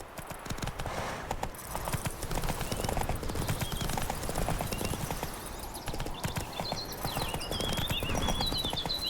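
A horse gallops with rapid, continuous clip-clop hoofbeats in the video game Witcher 3, loud and close against a busy background of game sound.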